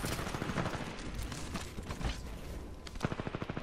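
Rapid bursts of gunfire from the video game Titanfall 2 crackle in quick succession, dense and continuous with a sharper cluster of shots near the end.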